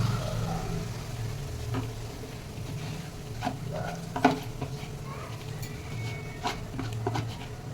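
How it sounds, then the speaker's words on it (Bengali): Whisked yogurt poured into a hot pan and stirred, a loud sizzle with repeated scraping and knocking of a spoon against the pan in an uneven rhythm. "এবার এই দইটা আমি ঢেলে দেবো"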